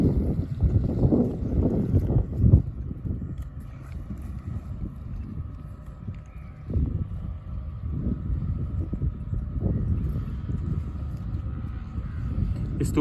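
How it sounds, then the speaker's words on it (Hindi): A speed boat carries people across a reservoir by a bridge construction site, its steady engine drone heard from a distance under heavy wind buffeting on the microphone. "स्पीड बोट जी है वो इन्हें आँदी है और तक्के सकने अस कि कितनी तेज़ी नाल जरा है उन्हें बंदे लेके पार जा रही है"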